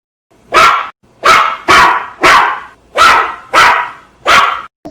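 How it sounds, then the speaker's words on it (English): A dog barks seven times in a steady, evenly spaced series, each bark loud, close and sharp with brief silence between. "Dog barks."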